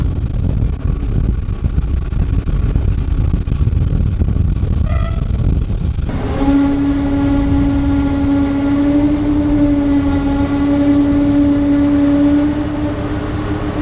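A train on the Erlauftalbahn in Lower Austria rumbles loudly, then a sustained brake squeal rises and holds for several seconds as it slows to a stop at a small station.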